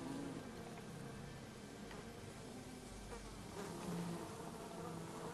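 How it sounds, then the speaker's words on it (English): Bees buzz steadily in a shooting video game, a continuous droning hum at even loudness throughout, with no voices over it. "And stupid bees are everywhere."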